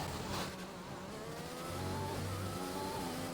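A Formula 1 race car in F1 2020 heard from onboard, its engine holding a steady high-pitched howl with slight shifts in revs, loud and close throughout.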